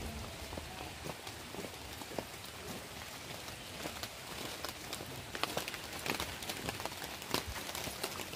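Rain falls near Madhabkunda waterfall, a faint, steady patter on hard surfaces with scattered sharp drop clicks throughout and no voices.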